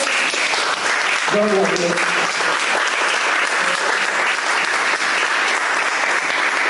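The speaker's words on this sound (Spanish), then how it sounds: "Un aplauso, hermano. Un aplauso." A church congregation claps in sustained, dense applause during a Spanish-language sermon, with a voice speaking briefly over the clapping early on.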